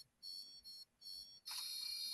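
A Dolphin Neurostim device emits three short, evenly spaced electronic beeps, followed by a louder burst of broadband hiss.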